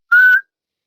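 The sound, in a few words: imitated whistle heard in the woods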